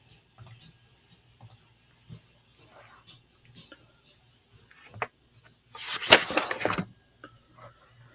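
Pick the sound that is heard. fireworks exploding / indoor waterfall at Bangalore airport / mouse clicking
mouse clicking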